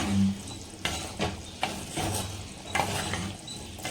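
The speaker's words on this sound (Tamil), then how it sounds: "ஸோ இப்போது சின்ன வெங்காயமும் சேர்த்தாச்சு இது நல்லா ரோஸ்ட் ஆகட்டும்" Small shallots roasting in sesame oil for a village-style pickle, with steady sizzling under repeated scraping stirs of a spoon against the pan, close and fairly loud.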